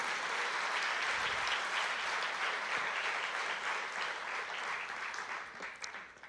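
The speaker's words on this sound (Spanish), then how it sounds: "¿Cuántos le aplauden a Él en este día?" Congregation applauding during a church service, a steady wash of many hands clapping that stays even and full before tapering off toward the end.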